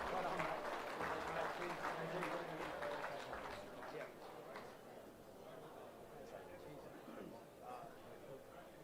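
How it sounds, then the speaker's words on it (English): Applause at a football netball league medal night honouring a 300-game league life member, a broad wash of clapping and crowd noise that gradually softens, with voices mixed in. "Big round of applause to Chris Cox of Ferntree Gully"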